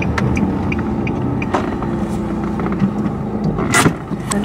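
Diesel car engine idling and throbbing steadily at close range while the car parks, a continuous low rumble with a few small bumps and no talk over it.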